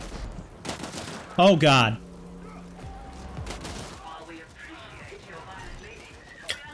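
Minigun fire in the co-op shooter video game The Ascent, a sharp loud burst of rapid shots amid ongoing game effects and mechanical sounds, with players talking over it.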